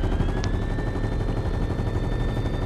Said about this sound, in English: I'm gonna shoot at the rocket, guys.